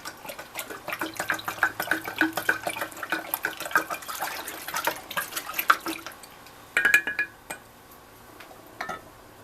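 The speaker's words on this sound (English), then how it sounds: "there goes the starter liquid" Kombucha starter liquid being poured into a jar amid clinks of glass and utensils, with splashing and dripping bursts that come and go in an uneven rhythm, close by with no talking.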